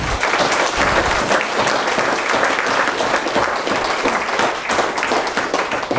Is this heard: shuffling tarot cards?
no